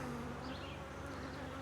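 Honeybees buzzing steadily around an open, queenless hive, a dense close drone that holds at constant loudness throughout with no talking.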